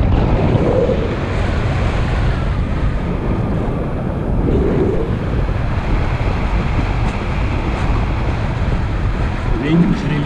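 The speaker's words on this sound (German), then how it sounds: "Der Wind ist relativ schwach" Strong, steady wind rushes across the microphone during a tandem paragliding flight, a continuous low roar and buffeting throughout with no clear voices over it.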